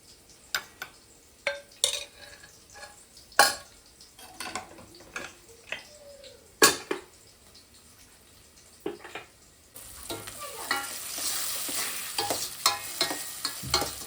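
Vegetables sautéing in a pan for Tamil sambar, with scattered sharp clinks and scrapes of stirring over a faint sizzle that grows into a louder, steady frying hiss near the end.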